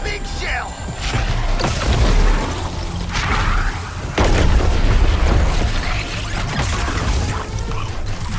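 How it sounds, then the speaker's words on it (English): A big shell fired and exploding in the Suicide Squad video game, heavy booms and crashing impacts rising out of a dense, loud wash of battle noise, with two strong blasts a couple of seconds apart. "It's shooting the big shell."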